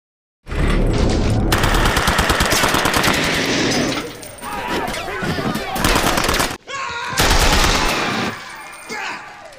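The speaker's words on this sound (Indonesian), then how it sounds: "Suara tembakan itu pun membuat Tristan terkejut" Loud bursts of rapid gunfire rattle close by in long volleys, with a brief gap before another burst, then a few scattered shots.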